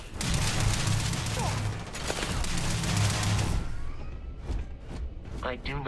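Dense rapid gunfire rattles almost continuously for about four seconds in the video game Starfield, then breaks into scattered shots, with voices talking over the combat.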